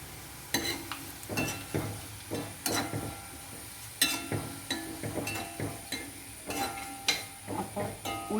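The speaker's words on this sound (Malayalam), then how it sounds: "ഉള്ളി മൂത്ത് തുടങ്ങിയിട്ടോ." Onions fry in a pan for a home-style ginger curry, with a soft sizzle under regular, close scraping and clinking stirring strokes about once per second.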